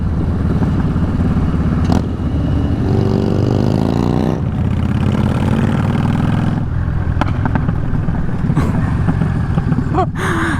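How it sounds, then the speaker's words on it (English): Motorcycle exhaust while riding past road work, a loud continuous engine drone with clattering and rising revs through the whole stretch, with a brief sharp pop near the end. "Was that my exhaust?"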